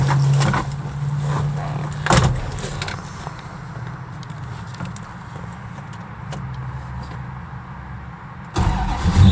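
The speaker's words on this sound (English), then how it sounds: "a little bit of a belt squeal there on the startup" A cold 1969 Dodge Dart Swinger set up for mild drag racing cranks and catches, rumbling with a high belt squeal mixed in, then settles into a rough idle before another loud burst near the end.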